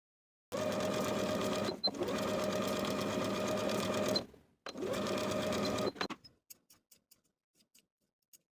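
A sewing machine stitches the princess seams of a dress at a 3/8 inch seam allowance, running in a long steady burst, pausing briefly, then a shorter run, followed by a few light clicks as it stops.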